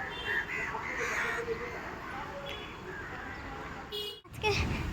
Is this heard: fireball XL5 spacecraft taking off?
no